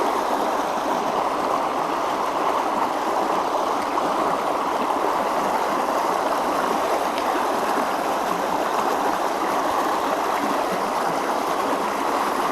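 River rapids rushing in a continuous, loud, broadband roar of churning water, steady and unbroken throughout with no voices.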